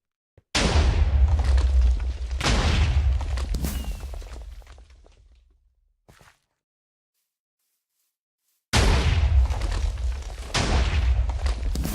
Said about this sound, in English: I made a special system in here where the TNT takes quite a long time to explode.